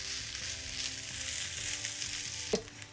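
Rice toasting in a hot pan for a rice, pepper and fish dish gives off a steady, close sizzling crackle, with a brief louder scrape or stir near the end.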